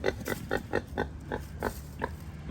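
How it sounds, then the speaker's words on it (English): A large pig of around 300 pounds grunts in a steady run of close, clear, rhythmic oinks, about nine short pulses with brief gaps between them. "a 300-pound pig"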